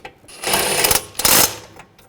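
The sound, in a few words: tightening brake caliper bracket bolts on a BMW 328i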